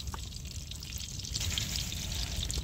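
Mustard seeds sizzle and crackle in hot oil in a village kitchen, the start of the tempering for a mutton keema ball curry. The frying starts quieter and swells into a steady, loud hiss.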